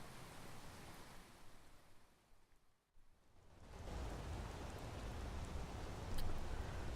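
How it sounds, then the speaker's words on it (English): Steady rain in the video game Skyrim hisses broadly, briefly thinning to near quiet before returning heavier and louder, with no talking. "Oh, and of course it's raining again."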